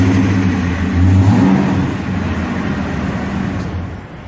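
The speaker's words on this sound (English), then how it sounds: "got a great note to the engine, a very tight engine." A Ford F250 engine runs and revs, a loud, steady low rumble with a swell partway through and no voices.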